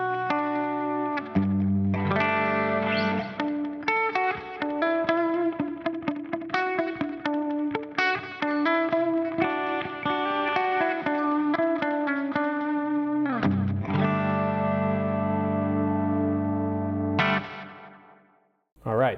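Electric guitar played through a Line 6 HX Stomp set to a space-echo style delay, chords and single notes ringing with repeating trails and some distortion, loud and alone for most of the passage before trailing off near the end.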